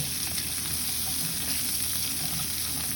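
Sofrito for a Catalan fideua sizzles loudly and evenly in an oiled pan, a dense, close crackle with occasional stirring scrapes and no voices.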